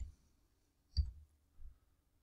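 Two quiet computer mouse clicks, a sharp single click near the start of a near-silent stretch followed by a softer second one.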